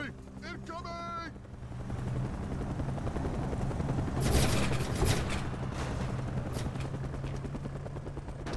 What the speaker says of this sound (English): Rocket artillery! Incoming!